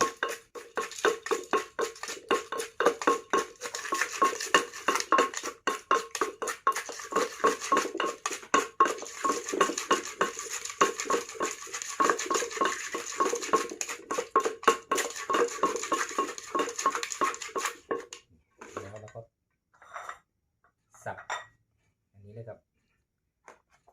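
A pestle pounds som tam with date palm shoots and tamarind water in a mortar, rapid rhythmic knocks for about eighteen seconds before stopping, followed by a few scattered clinks and taps.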